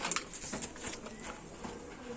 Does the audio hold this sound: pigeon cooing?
yes